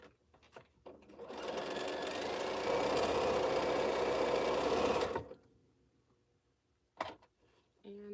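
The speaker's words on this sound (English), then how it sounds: "Just want to sew the other sides on." Sewing machine sewing the sides of a piece, a loud steady motor whir lasting about four seconds that ramps up, holds, then stops, with faint handling clicks before and after.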